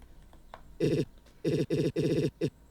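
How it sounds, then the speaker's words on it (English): A phone rings in the video game Deltarune: five loud electronic ring bursts in an uneven pattern, clear and alone with no talk. "It's our phone."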